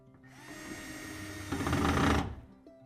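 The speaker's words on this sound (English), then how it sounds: "I'm going to feed in those screws to hold it." Quarter-inch screws driven into the cowling of a Maytag electric dryer with a power driver, a steady motor whir for about two seconds that swells louder near the end, close and alone.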